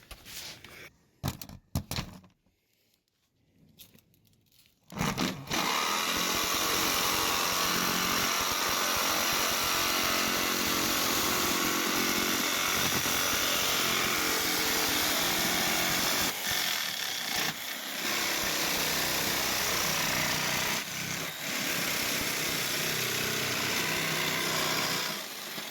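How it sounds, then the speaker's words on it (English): A jigsaw saws along a traced outline in pallet wood for a cabin stove hole, a loud steady buzzing cut running continuously after a few quiet seconds of setup knocks, with brief dips in pace. "now I'm just going to take the jigsaw and saw around it"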